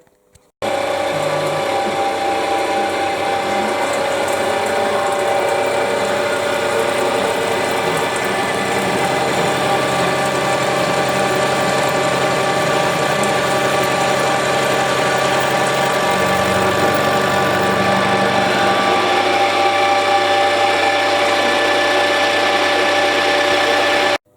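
Disc grinder with a wheel chamfering the end of a metal part, giving a steady loud motor whine with a continuous grinding hiss throughout, which shifts slightly partway through.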